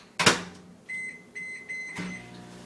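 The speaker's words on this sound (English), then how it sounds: "I'm gonna go ahead and stick that in the microwave for 1 minute" A microwave oven hums with a few short electronic beeps, preceded and followed by door or latch clunks; close and fairly quiet, no talking.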